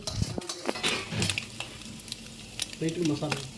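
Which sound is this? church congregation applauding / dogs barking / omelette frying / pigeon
omelette frying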